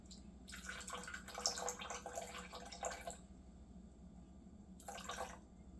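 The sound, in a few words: pouring 50 grams of filtered water into sourdough starter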